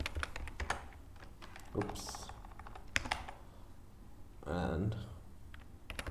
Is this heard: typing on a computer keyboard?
yes